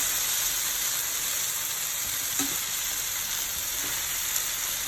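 Chicken barbecue sizzling over a lowered flame, a steady soft hiss of frying with faint crackles and an occasional small tap, continuous and fairly quiet with no speech.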